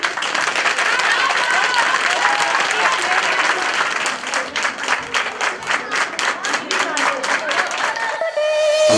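Clapping rings out from the audience at a kindergarten autumn celebration. It begins as dense, continuous applause, then turns into loud, rhythmic, unison claps near the end, with the crowd chattering underneath.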